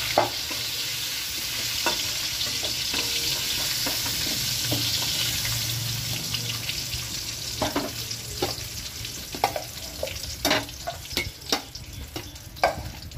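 Slices of pointed gourd (potol) frying in hot oil in a pan, with a dense continuous sizzle that gives way to repeated scraping and stirring knocks from a spatula, close and fairly loud with no talk.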